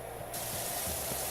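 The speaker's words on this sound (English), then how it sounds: "the wide nozzle is good for spraying off a lot of shit" A pressure washer nozzle sprays in the video game PowerWash Simulator 2, a loud continuous hissing jet that swells slightly after a moment and holds steady without any talk.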